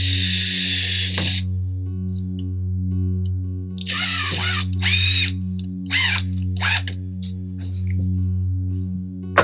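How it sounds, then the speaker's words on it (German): A small 3x30 screw driven into wooden boat model parts on a Riva frame kit, with a power drill whirring in several short bursts over a steady electrical hum, close and loud. "Nehme ich mir eine kleine 3x30er Schraube und fixiere das hier auch mit einer Schraube."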